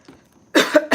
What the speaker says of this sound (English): Thank you for your patience while I cough